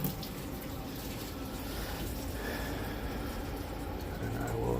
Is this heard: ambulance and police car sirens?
no